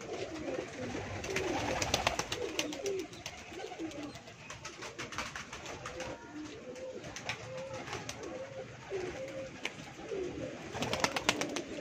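Several pigeons coo in repeated soft, rolling phrases on a rooftop, overlapping at close range against a light background rustle, with a few sharper flutters and taps scattered through.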